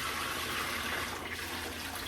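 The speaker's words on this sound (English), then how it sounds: "and I just pour the water in." Hot water pours from a pot into a sink in a steady, rushing splash, close and continuous, with no voices.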